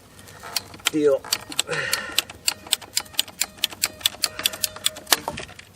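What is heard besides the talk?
PVC pipe cutter cutting PVC pipe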